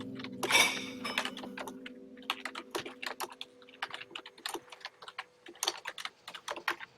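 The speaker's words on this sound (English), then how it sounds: "loudest keyboard again." Loud computer keyboard typing during a gaming stream, with rapid irregular keystrokes clattering close and clear throughout, no talking over it.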